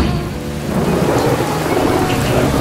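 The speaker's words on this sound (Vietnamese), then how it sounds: "trời mưa thế này" Heavy rain pours steadily with rolling thunder, a dense close wash of downpour that stays loud throughout with no one speaking.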